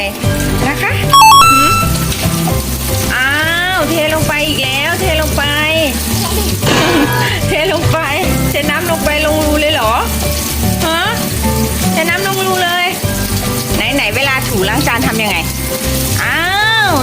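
Water runs and splashes continuously while dishes are rinsed, with people talking over it throughout.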